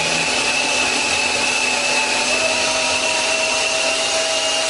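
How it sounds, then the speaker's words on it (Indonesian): A small electric food chopper grinds meat with a loud, steady motor whine and whir that holds constant throughout without talk. "Kita haluskan menggunakan chopper."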